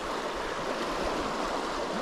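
Flowing water of the Niangua River, a cold spring-fed fishing river, in a steady close-up rushing babble with an even, continuous texture and no voices.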